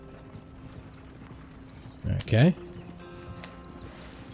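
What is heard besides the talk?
horses clip-clopping in Red Dead Redemption 2 video game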